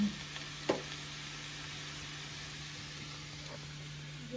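Potatoes frying in hot oil for an aloo paneer curry give a quiet, steady sizzle and hiss throughout, with a couple of faint clinks near the start and no talking.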